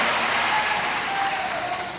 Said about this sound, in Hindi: हाँ, बजा लो तालियां जितनी बजाना है।